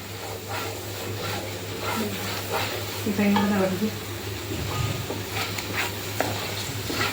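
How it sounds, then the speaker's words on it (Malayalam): Chana masala sizzling and frying in a pan while it is stirred until the oil separates, with steady crackling and occasional scraping, a faint voice in the background. "ഇത് ഇളക്കി എണ്ണ തെളിഞ്ഞ് വരുന്നവരെ ഇളക്കി കൊടുക്കാം"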